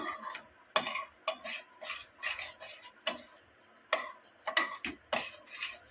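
Rajgira (amaranth) flour stirred slowly in a pan for sukhadi, a spoon scraping and tapping in an uneven rhythm of close, crisp clinks and scrapes with brief pauses.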